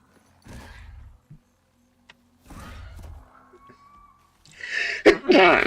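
A single sharp, loud sneeze bursts out near the end after a few quiet shuffles and soft sounds.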